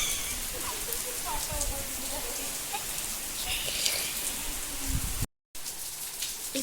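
Rain falls in a village at evening, a steady broadband hiss that fills the whole clip and briefly cuts out near the end, with a voice talking over it.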